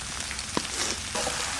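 Hilsa fish fries in a pan of hot oil with a constant close sizzle and occasional small pops, and no voices over it.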